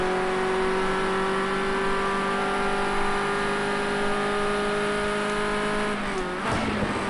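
Ford Escort RS 1600 race car engine held flat out on the Sugo circuit, a loud steady high drone throughout with a brief dip near the end.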